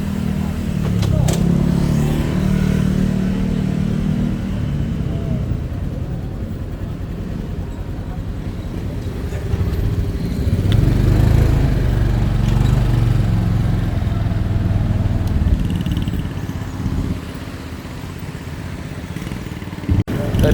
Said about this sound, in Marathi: तर आपली बाईक आलेली आहे.